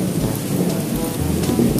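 Steady rain falls with a low, rumbling roll of thunder underneath. The hiss is dense and constant throughout the short stretch, with no voices.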